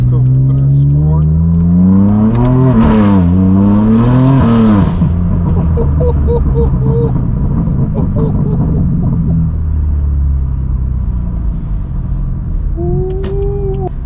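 BMW F82 M4 in sport mode accelerating, its engine note rising and falling in sweeping revs, then settling into a rough rumble as the car moves off, loud and close with brief talk over it.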